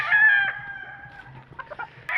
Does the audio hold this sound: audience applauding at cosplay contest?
no